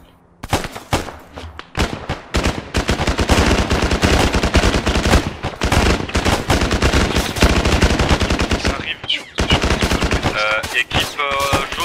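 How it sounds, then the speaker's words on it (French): Sustained automatic gunfire rattles in ArmA 3 co-op combat, loud and dense bursts running nearly continuously for about ten seconds before thinning out, with no clear voices over the shooting. "Ok, ça tire aussi du flanc nord."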